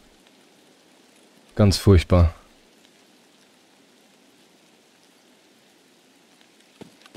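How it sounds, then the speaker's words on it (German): Rain falls in the video game Escape from Tarkov as a faint, steady wash that runs throughout, with a brief burst of someone speaking German near the start. "Erster Regen in Tarkov."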